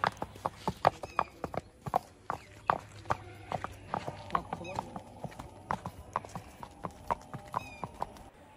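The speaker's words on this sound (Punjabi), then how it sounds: "ਹੁਣ ਤੁਹਾਨੂੰ ਜਾਣੂ ਕਰਵਾਉਂਦੇ ਹਾਂ ਇਸ ਜੈੱਡ ਬਲੈਕ ਮਾਰਵਾੜੀ ਘੋੜੀ ਬਾਰੇ" Hooves of a jet-black three-year-old Marwari mare clip-clop in a steady walking rhythm on a stud farm, close and distinct, with a brief whinny-like call and faint background sounds.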